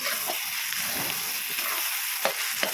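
Chopped onions sizzle and fry in a pan over a raised flame alongside cumin and coriander, with a constant crackling hiss and a few sharp scrapes of a spoon stirring them.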